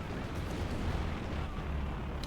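The 37mm cannons of a Stuka Kanonenvogel in the video game Company of Heroes 2 fire at armor: a dense, rumbling barrage of cannon blasts over a steady, noisy battlefield, short and loud throughout.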